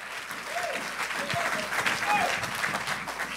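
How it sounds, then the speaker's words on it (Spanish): A church congregation claps for the Lord during a Spanish-language sermon, steady moderate applause with scattered whoops and voices threaded through it. "Dale un aplauso al Señor si te quedan fuerzas."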